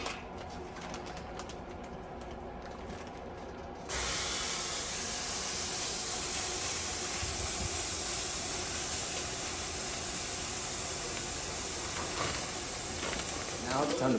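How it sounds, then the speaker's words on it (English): Marinated carne asada searing in a hot pan gives a steady, close broadband hiss that turns noticeably louder a few seconds in and holds evenly to the end. "we're gonna go sear it off in the pan"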